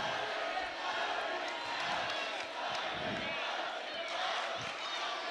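Rival student sections at a boys high school basketball game, a sustained roar of crowd cheering and yelling with scattered shouts, moderately distant and continuous.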